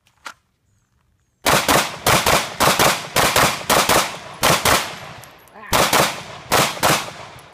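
A handgun fires during a shooting drill, a rapid string of loud, sharp shots in irregular bursts with short pauses, close by and outdoors, with no talk.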